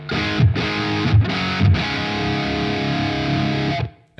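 Electric guitar through a Wild Throw overdrive pedal rings out in thick, saturated chords, a few sharp low strums early on, then a sustained distorted wash that cuts off.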